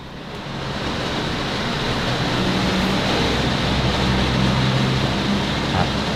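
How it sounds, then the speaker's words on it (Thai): A budget kitchen range hood fan, sold as quiet at under 75 decibels, starts up and then runs as a steady, loud, broadband whoosh with a low hum underneath. "เราลองมาฟังเสียงเครื่องดูดควันกันดูนะครับ"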